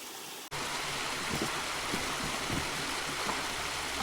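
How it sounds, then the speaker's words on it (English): A small waterfall on the trail up to the hot springs, a thin flow of water coming down. It starts with a brief near-silence, then a steady rushing trickle that stays constant and fairly close. "So this is the waterfall on the way up to the hot springs."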